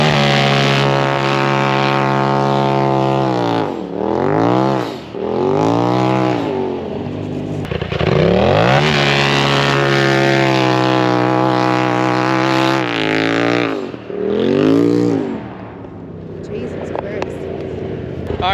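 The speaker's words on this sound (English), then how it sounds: "now we'll do the same thing with the RPM Sport Muffler" A 2020 Polaris RZR Pro XP fitted with an RPM slip-on catless sport muffler taking off from a dead stop, loud nearby engine revving that rises and falls in repeated surges with a barking exhaust note.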